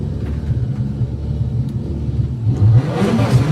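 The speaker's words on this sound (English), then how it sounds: "big pop there as it goes through the finish line" Drag racing car at a VW heads-up event crossing the finish line, a loud sustained engine roar with a sharp exhaust pop and rumble near the end, no talk.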